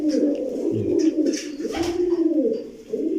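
A large jersey-banded pigeon gives soft, repeated low coos at close range, with faint rustling and little else around it.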